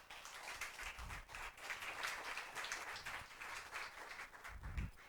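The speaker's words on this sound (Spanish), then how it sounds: "Le damos un aplauso al Señor" A congregation applauds to praise the Lord during a Catholic preaching service: a steady, faint, distant wash of clapping that holds for several seconds with no voices over it.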